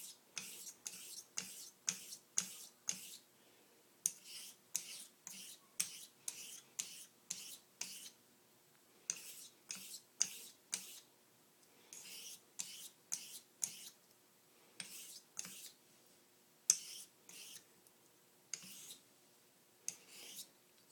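A straight razor is drawn in one-direction strokes across a 1000 grit sharpening stone, making quiet, crisp scraping swipes that repeat in a steady rhythm with brief pauses, and no voices are heard.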